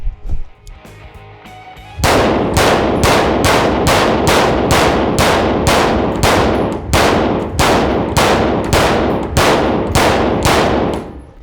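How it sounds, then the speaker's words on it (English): An AR-15 rifle fires a full magazine after a brief quieter lead-in, with about fourteen loud, sharp reports in a steady rhythm, each followed by a short ringing decay, and no talking. "As long as we've got this gun set up, we might as well run one mag."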